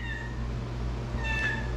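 A cat meows twice in a garage beside a 1990 Ford F350 crew cab diesel truck under repair, short clear cries near the start and end over a steady low hum.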